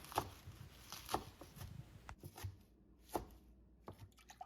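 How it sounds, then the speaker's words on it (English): A knife roughly chops kale leaves on a cutting board, giving a handful of separate sharp chops spaced about a second apart, close and fairly quiet, with no talking. "then I give it a rough chop in both directions"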